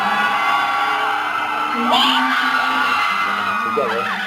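A crowd of fans cheer and shout for actor Alden Richards, a steady loud roar with rising whoops and yells breaking through from close by.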